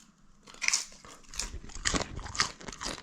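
Salt and vinegar potato crisps crunched while eating, giving a string of crisp, crackly bites at close range and moderate volume.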